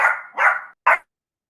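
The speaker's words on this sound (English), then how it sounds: "my dog is barking in the background" A dog barks three times in quick succession, fairly loud and clear, with a slightly muffled tone during an online board meeting, followed by silence.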